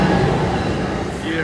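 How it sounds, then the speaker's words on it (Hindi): An express train rolls steadily through a clean station without stopping, a continuous close rumble of rail noise lasting throughout, with a voice talking over it. "ये ट्रेन आने का मंजर है। अब ये ट्रेन आ गई है यहाँ पर।"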